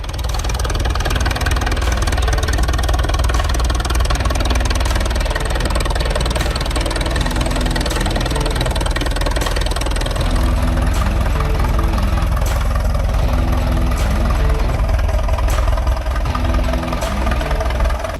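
An Allis-Chalmers Model UC farm tractor, built between 1930 and 1953, runs continuously with a dense, loud, rumbling engine drone. The sound is steady with a faint knocking texture throughout.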